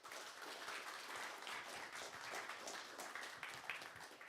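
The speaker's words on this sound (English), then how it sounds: "One more round of applause" A crowd applauds at a national engineering awards ceremony, steady dense clapping holding at an even level throughout without pause.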